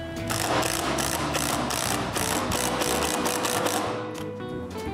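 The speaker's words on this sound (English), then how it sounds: "I clamp the post, leave the rest where I want it to be, and screw it in place." A post is screwed into place on a handmade cat tree, with a loud, close, continuous whirring drive of a power screwdriver that buzzes in rapid pulses for about four seconds before winding down.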